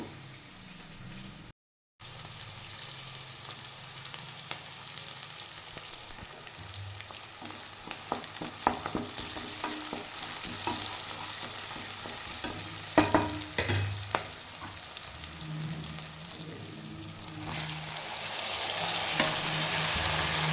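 Ingredients for tomato bath fry in a pan, a continuous close sizzle with intermittent stirring clatters and crackles that grow busier toward the end, no voices.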